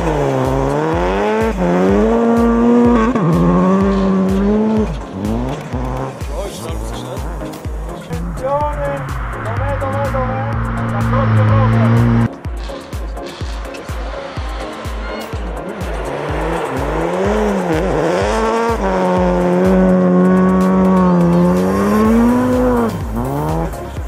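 Gigi Galli's rally car howls across ice at Livigno's Ice Challenge, its engine revving hard and rising and falling through slides, with tires skidding and a voice talking over much of it, loud and close throughout.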